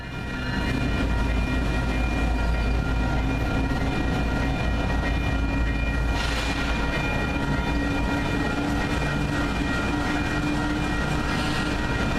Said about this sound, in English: When a Union Pacific Power move encountered a Pacific Harbor Line unit, the resulting collision was too much for the barrier to handle.